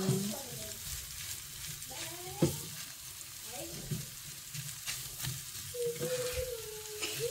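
A frying dish with kimchi and a splash of soy sauce is stirred in the pan, giving a steady sizzle broken by spatula scrapes and light clatter. Soft voices are heard now and then.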